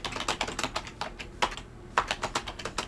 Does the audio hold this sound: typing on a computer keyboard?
yes